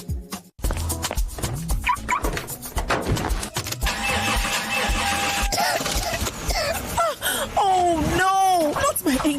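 A car engine struggles and cranks unsuccessfully in a radio advert for AP Lubricants, with repeated sputtering starts, tonal effects and a voice speaking over the scene.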